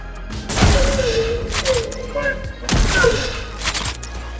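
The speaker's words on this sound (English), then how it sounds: "When you use the alternate fire, it turns into a plasma shotgun kinda" Two heavy blasts from a video game plasma shotgun's alternate fire boom about two seconds apart, each with a rumbling tail, under a talking voice.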